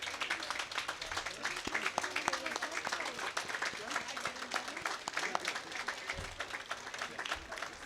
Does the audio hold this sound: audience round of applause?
yes